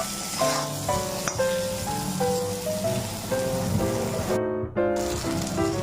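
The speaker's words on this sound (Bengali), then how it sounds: "লবণ দেইনি, শুধু হলুদ মেখে বেগুনটি প্রথমে ভেজে নিচ্ছি।" Turmeric-coated eggplant pieces fry in oil with a dense, rain-like crackling sizzle, close and fairly loud, while a melodic tune plays over it throughout.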